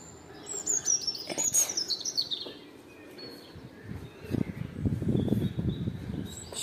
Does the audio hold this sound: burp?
no